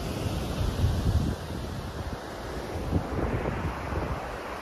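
Ocean waves surge against the Streaky Bay coast on Eyre Peninsula at high tide, a broad roaring wash with swelling pulses and gusty wind noise on the microphone, no talking.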